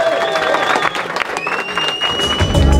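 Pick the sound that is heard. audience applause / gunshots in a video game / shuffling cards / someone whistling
audience applause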